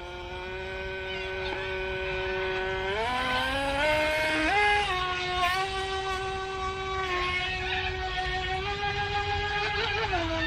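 A Feilun FT007 RC boat converted to brushless power screams along at full throttle, a steady high-pitched motor whine that rises and shifts in pitch as it skips across the water, fairly close and continuous.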